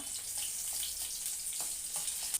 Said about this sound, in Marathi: हिरव्या मिरच्या चांगल्या तेलामध्ये परतून घ्यायच्या